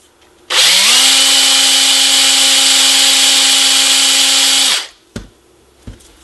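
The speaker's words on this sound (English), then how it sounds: "Little honing, do the end." A power tool hones the end of a metal tube from a 1950s NuTone K model two-note long tube doorbell chime, giving a loud, steady whine for about four seconds that stops abruptly, followed by two sharp knocks.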